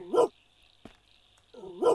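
A dog in a horror video game gives two sharp barks, one at the start and one at the end, separated by a quiet stretch with a faint click, close and fairly loud.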